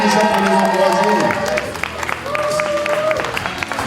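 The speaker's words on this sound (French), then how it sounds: "On les applaudit déjà pour les encourager." An audience applauds in a church, a dense burst of clapping and crowd noise up front that thins as tonal voices and music-like tones come through.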